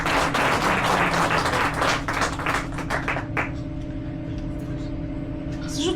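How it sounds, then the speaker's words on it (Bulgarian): An audience at a poetry book premiere applauds with brisk, dense clapping for about three seconds, then the applause thins to a few scattered claps and fades into the quiet room. "най-напред аплодисменти за оформлението"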